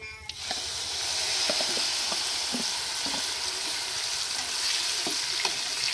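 Greens stir-fried in plenty of oil in a pan, a steady loud sizzle with scattered pops and scrapes of stirring throughout.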